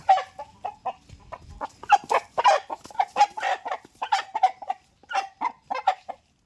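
A breeder fighting rooster brought from Andhra clucks close by in a steady run of short, repeated calls, with faint background noise and no talk over it.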